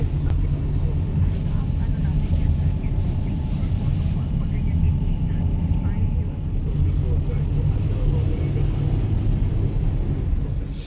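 Inside a Grab car heading to a bus terminal, a steady low road rumble and engine hum fill the cabin at an even, fairly loud level throughout.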